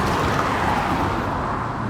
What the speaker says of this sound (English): Wait till these cars go by.